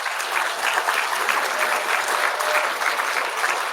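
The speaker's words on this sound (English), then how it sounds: "Give them a round of applause" Guests at a health organisation's launch and 50-year celebration applaud the team. Steady, dense clapping from a sizeable crowd sounds evenly throughout, with no talk over it.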